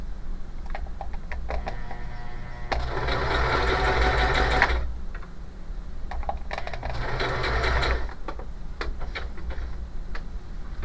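A Pfaff Smarter 140s sewing machine stitches a seam, two sustained bursts of fast mechanical whirring separated by a pause, set against ticking and faint handling sounds close by.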